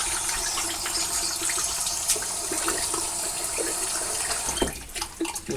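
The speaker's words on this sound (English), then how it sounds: "I'm going to put some water on my face." Water runs from a bathroom sink tap while it is splashed onto a face, a steady close hiss with small splashes and a louder slosh near the end, and no talking.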